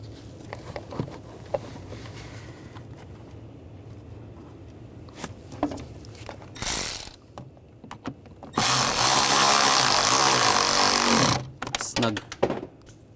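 Screws are driven into the plastic intake box of a 2009–2017 Volkswagen Tiguan, with short clicks and taps followed by a loud, steady whir of about three seconds from a power driver, close by.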